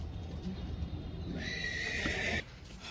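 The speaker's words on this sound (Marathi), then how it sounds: "सोनू भाऊच्या पण घोड्या आलेल्या आहे." Horse brought in for horseshoeing neighs loudly nearby, a long whinny over faint hoof clatter and ambient noise.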